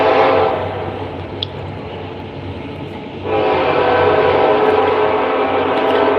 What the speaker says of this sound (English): Hold on, let me let the train pass.